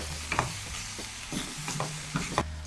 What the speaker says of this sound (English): we want to give it a stir so it soaks up some of this sauce in the pot